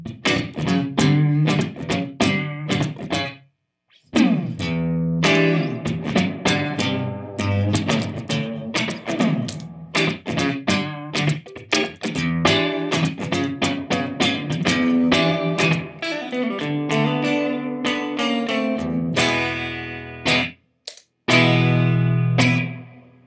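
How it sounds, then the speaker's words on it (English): An electric guitar is played through a reverb pedal that is switched on and off. Strummed chords and picked notes alternate between dry passages and lingering, echoing tails, with brief silent gaps between phrases. "just in case you're still unsure of what reverb is, I'll play a bit clicking the pedal on and off."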